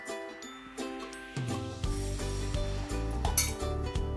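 A spoon stirs five spoonfuls of sugar into a metal pot while making rasmalai, giving repeated close clinks and scrapes against the pot over a low steady hum, with no talking.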